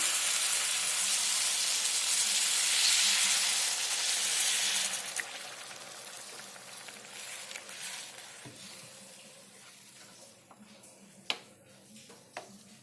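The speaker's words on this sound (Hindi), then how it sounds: "गरम पानी ऐड करेंगे।" A loud hissing sizzle bursts up as hot water hits sizzling spices in a hot pan for vada rassa curry, then gradually dies down to a softer simmering crackle with a few faint clicks.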